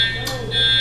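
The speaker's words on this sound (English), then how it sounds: "my fire alarm is going off." A home fire alarm gives a shrill, steady, high-pitched tone that cuts out briefly and then resumes, loud and close, with a faint voice in the background.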